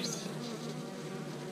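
Honey bees buzzing at a hive, a continuous dense hum from many insects, fairly faint and steady with no voices.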